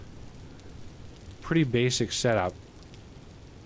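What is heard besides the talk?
rain falling in Vintage Story video game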